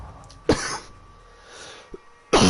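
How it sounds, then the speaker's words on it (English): Short, harsh coughs from a gaming livestreamer during Call of Duty Modern Warfare II play, one burst near the start and another at the end, close to the microphone with quiet room noise between. "I hate that I'm coughing"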